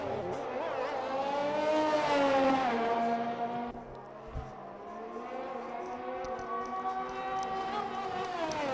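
A Formula 1 race car in a racing video game at the Chinese circuit screams across the finish line, its engine holding a high steady whine with pitch sweeps as it passes, fairly loud and continuous without talk.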